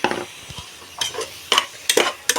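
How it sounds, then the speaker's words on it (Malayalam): Chopped tomatoes are stirred into biryani masala in a pan, giving five or six short scraping stir strokes with a soft sizzle beneath, close and fairly loud, with no talking. "നല്ല പാങ്ങിൽ ഇങ്ങനെ മിക്സ് ചെയ്ത് കൊടുക്കുക"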